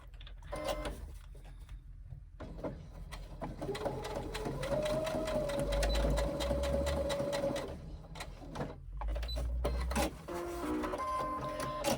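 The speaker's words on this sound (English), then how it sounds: "running a row of stitching to help hold that in place." A sewing machine runs a row of stitching on a crossbody bag near the center, motoring steadily for several seconds with brief stops and restarts, close and clear.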